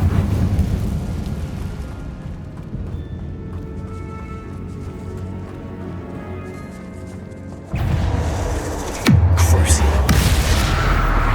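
Spell explosion from Confringo cast in a tomb in Hogwarts Legacy, a sudden loud blast bursting in near the end after a rumbling stretch, then sustained roaring debris noise.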